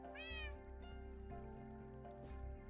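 A cat from a Minecraft 1.16.5 game meows a few times with rising, tonal calls over a steady background hum, moderately loud and with no talking.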